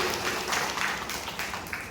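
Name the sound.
applause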